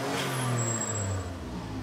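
A Mitsubishi 3000GT engine runs close by with a low, throaty tone that swells briefly as the throttle is blipped, then eases back toward idle over a couple of seconds.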